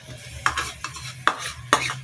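Onion tipped into a pan of fried garlic and ginger for a desi-style Chinese biryani, giving four sharp scraping clanks of a spoon against the metal pan over a low background hum, with no steady sizzle.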